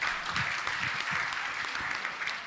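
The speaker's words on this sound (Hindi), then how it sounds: "एक बार जोरदार तालियां दे दो।" Loud, sustained applause from an audience at a Jain monk's question-and-answer religious discourse in Mirzapur, Uttar Pradesh, steady and dense throughout.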